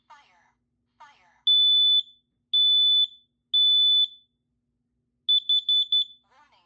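A large smoke alarm sounds three long, loud electronic beeps followed by a quick burst of shorter ones, with its recorded voice announcing a fire warning before and after.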